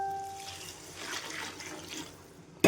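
Hot water poured into a cooking pot of dal spices with coriander powder, a steady liquid splash and gurgle close by for about two seconds, ending in a brief louder clatter, with no talking.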